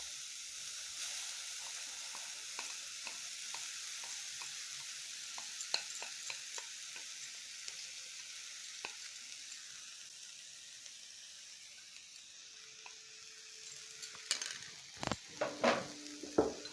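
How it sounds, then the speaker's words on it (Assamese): Grated coconut fries in a pan for a Bihu moong dal pitha, giving a continuous soft sizzle with light stirring scrapes, then louder clinks and scrapes of the spatula in the last few seconds. "নাৰিকলখিনি ভালকৈ ভাজি লওঁ"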